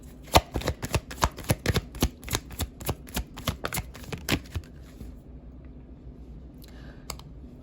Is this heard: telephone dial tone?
no